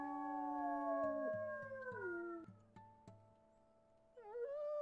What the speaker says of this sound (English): Just one howl, that's all I ask.